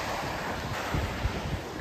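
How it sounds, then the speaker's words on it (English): Ocean surf rolling in at night along the Cape Cod shore in November, a steady wash of breaking waves with wind buffeting the microphone, no voices. "I entitled this video, Glenda and I at the ocean at night"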